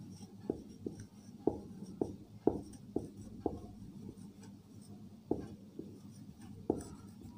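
A pen scratches across paper as sentences are written by hand, producing short, rhythmic strokes and taps that are quiet and close, with brief pauses between bursts.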